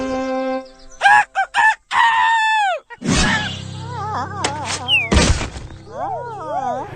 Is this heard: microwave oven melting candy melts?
no